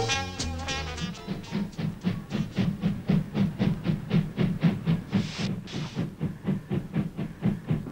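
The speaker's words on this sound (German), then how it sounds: "von den hunderten Zügen, die täglich hier das Grünauer Kreuz in Berlin passieren" Rhythmic clattering of a train rolling over rail joints at the Grünauer Kreuz junction in Berlin in the 1960s, steady and fairly close, with a brief hissing burst midway; no voices.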